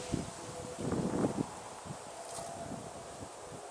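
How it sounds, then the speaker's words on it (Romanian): Wind gusts softly outdoors at a fishing lake, rustling leaves and buffeting the microphone, with a slightly stronger gust early on before it settles to a faint steady rush. "a început și vântul din nou"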